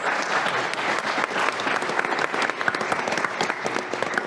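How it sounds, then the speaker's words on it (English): An audience at a future-of-commerce speaker panel gives the panelists a round of applause, full and lively clapping with a few crowd voices mixed in. "let's give our panelists a round of applause"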